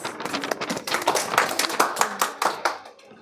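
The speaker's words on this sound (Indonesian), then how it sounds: "Oke, kita beri aplaus." An audience of schoolchildren claps hands together in brisk, uneven bursts for about three seconds, close and fairly loud, before fading out.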